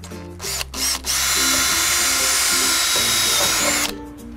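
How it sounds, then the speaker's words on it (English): A power drill whines loudly for about three seconds as it bores through PVC and a carport dropper, after two brief starts, then winds down. No one speaks. "So just drill a hole through the PVC and through the dropper."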